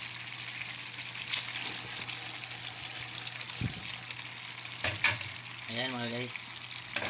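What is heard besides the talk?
soup boiling in a pot with alugbati leaves added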